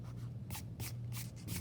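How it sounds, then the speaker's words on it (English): A rubber eraser on a regular number 2 pencil scrubs across drawing paper to remove guidelines, giving soft, close, rhythmic rubbing strokes in short repeated bursts. "And then I can start erasing these guidelines."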